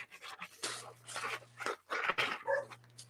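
A dog in another room makes muffled bursts of barking and panting, irregular and somewhat distant, with a faint steady hum underneath.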